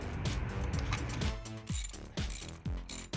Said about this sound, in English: Just hand tighten over, torque these.